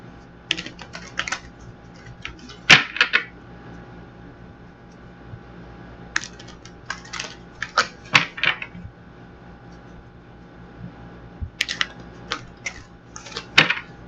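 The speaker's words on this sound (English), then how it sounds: "They're so stiff I can't even shuffle them right." Stiff new tarot cards being shuffled and bent by hand, bursts of crisp snapping riffles and clicks separated by quiet pauses, close to the listener with no talk.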